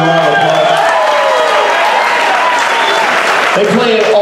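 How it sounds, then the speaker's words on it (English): A crowd applauds for the bass player during a hillbilly band's live show at Knott's, loud sustained clapping and cheering over lingering stage sound. "Give him a big round of applause."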